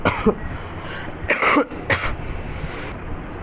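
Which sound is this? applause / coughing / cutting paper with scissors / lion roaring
coughing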